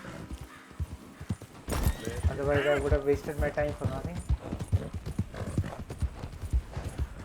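Horse hooves clip-clop steadily on hard ground in the video game Red Dead Redemption 2 while someone talks over them, with a horse whinnying briefly partway through.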